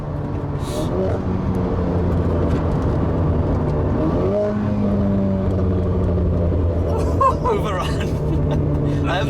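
Renault Clio RS 220 Trophy hot hatch engine on overrun, a steady loud mechanical rumble with a brief pitch dip midway and crackling bursts near the end, heard from inside the car.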